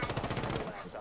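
Rapid automatic gunfire in Rainbow Six Siege, a fast burst of evenly spaced shots over about half a second, moderately loud, then a quieter tail of room noise.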